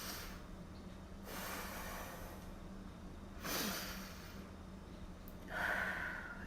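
Slow deep breaths, taken as a breathing exercise to help the lymph system, come as three soft, airy inhale-exhale swells spaced a couple of seconds apart, close to the microphone and fairly quiet, with no talking.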